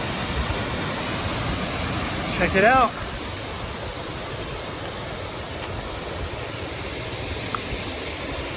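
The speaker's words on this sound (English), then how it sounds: "Another exciting waterfall to go check out on the Columbia River" Quina Falls on the Columbia River Gorge near Portland gives a steady, broad rush of falling water that runs through the whole clip, with a brief spoken remark near the start.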